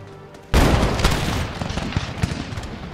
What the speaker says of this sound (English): I think the square only like fires volley fire